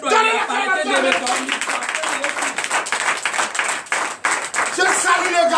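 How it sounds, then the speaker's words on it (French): A church congregation claps and cheers in loud, sustained applause, a dense wash of hands filling the room with chatter and voices mixed in throughout. "Donnez l'acclamation"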